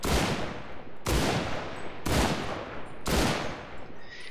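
Automatic weapon fire in the World War II shooter game Enlisted: four dense, loud bursts of rapid shots, each about a second long and separated by brief gaps, with nothing else audible.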